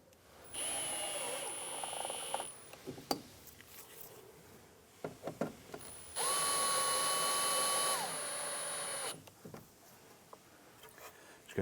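A cordless power drill drives the door lock screws on a 1993-1997 Ford Ranger in two whirring bursts, the second longer and higher-pitched, with clicks and handling noises in between and a voice talking quietly.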